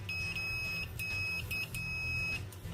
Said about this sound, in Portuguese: Quando a gente junta aqui as pontas, ele solta um bip